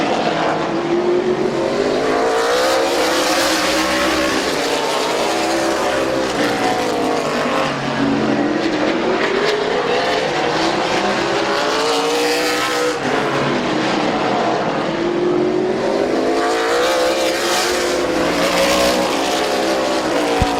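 Race cars lap Midvale Speedway in a steady, loud roar, with engine notes repeatedly rising and falling as the machines sweep past in waves. The sound stays close and continuous throughout, with no talk over it.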